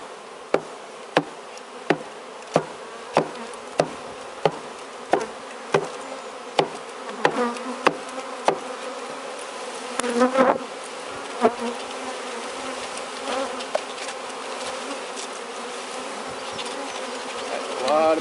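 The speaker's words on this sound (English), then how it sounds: "That's a lot of bees. And they're mad." Package of Italian honey bees buzzing loudly as a dense swarm, with a run of regular sharp taps on the box early on, then steady agitated humming alone.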